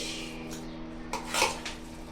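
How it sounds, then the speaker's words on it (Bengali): Faint clinks and a scrape of a spoon against a serving dish as biryani is mixed, a couple of soft metallic taps over a low background hum. "তো আলাদা আলাদা করে ডিশে মিলাই ফেলি আমি"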